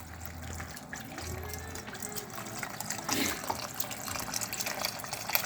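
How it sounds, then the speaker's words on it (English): Boxed Campbell's beef broth pours into a soup pot for hamburger soup, a soft, steady liquid stream and splash lasting several seconds at close range with no talk over it. "I use the Campbell's beef broth. Put the whole box in there."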